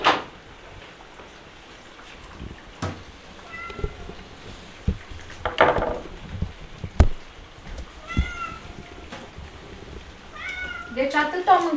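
Cats at a countryside home meow repeatedly, several short rising calls and a longer cry scattered through the stretch, mixed with household knocks and clatter and a person talking now and then.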